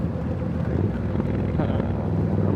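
Wind buffets the microphone while riding a Triumph Scrambler 900 motorcycle on a hot UK day, a steady, loud low roar with engine drone beneath.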